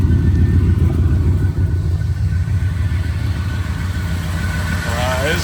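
A 1977 Chevrolet Monte Carlo with a 305 V8 idles with a loud, steady low rumble close by, and someone talks over it near the end.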